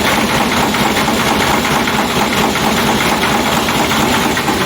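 A ZS1100NM 18 hp single-cylinder diesel engine idles steadily, a constant close-up rumble with a knocking, vibrating texture and no voices.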